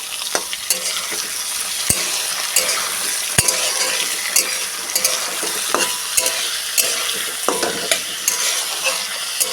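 Thin-sliced papaya pieces fry in a pan with a bright, steady sizzle, while a utensil stirs and scrapes them, giving sharp periodic clacks against the metal every second or so.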